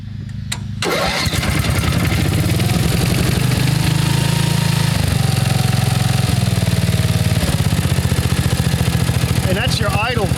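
An older Jacobsen Homelite riding lawnmower engine starts and settles into a loud, steady, rumbling cold idle close by, with a brief voice near the end.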